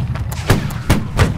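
Three heavy booming cannon blasts in a video game, spaced about a second apart, with a rumbling low-frequency thud in each burst.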